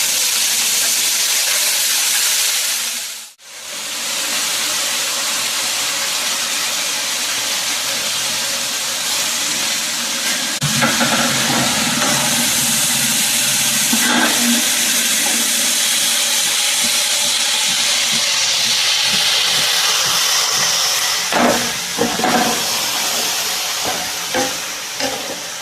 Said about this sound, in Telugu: నీరంతా పోయి బాగా యాగాలండి. నూనెలో ఏగితేనే మగ్గితే బాగుంటుందండి కూర.